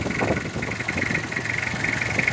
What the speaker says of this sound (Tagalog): Uh, ito yung makina ko.